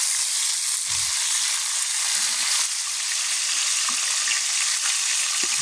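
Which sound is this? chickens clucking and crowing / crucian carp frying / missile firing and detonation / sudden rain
crucian carp frying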